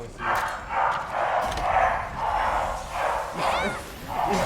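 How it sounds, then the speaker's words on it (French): Dogs bark repeatedly in a steady series of regular barks at moderate distance, heard behind the sound of a game being played. "Là depuis tout à l'heure ils aboient pas, là bizarrement on est en vidéo, ils aboient."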